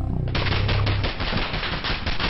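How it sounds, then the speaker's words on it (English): Sustained automatic fire from an MG-42 machine gun in the World War II game Squad 44, a dense rapid burst rattling continuously for about two seconds, loud and close, with no voices over it. "MG on the second floor"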